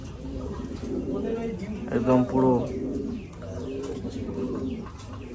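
Fancy pigeons, including a yellow-faced bird, coo with throaty rolling calls that swell loudest midway, close by, while someone talks over them.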